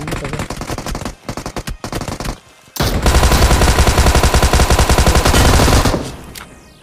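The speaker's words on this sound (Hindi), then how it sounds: "तो फिलहाल अभी टोमी गन से पीछे एक बंदे को नॉक करा" Tommy gun and M16 fire in BGMI / PUBG Mobile, loud close automatic bursts: choppy short volleys at first, then a long sustained stream of rapid shots lasting about three seconds before fading out.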